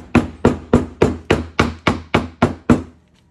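Nine evenly spaced, dull soft-hammer taps driving a part into a Triumph TR6 differential, each a short thud with a quick decay, steady rhythm and close, then silence.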